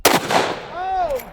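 A single sharp 30-30 rifle shot cracks out at the start and is followed by a brief echoing tail, with a short rising-falling voice exclamation right after.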